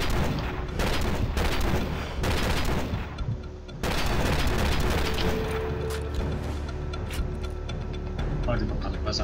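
Gunfire in the video game Call of Duty 4: dense bursts of rifle and machine-gun shots crackle loudly and near, with a brief lull midway, while game voices talk over the shooting.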